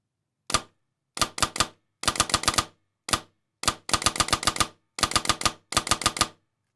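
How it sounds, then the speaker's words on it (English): Airsoft gun running on a PolarStar gas air system, firing and cycling in sharp, loud bursts: a single shot, then quick clusters of three to six rapid cracks separated by short silences, with no talking. "So when we go to pull the trigger, it should put air through the gun and cycle."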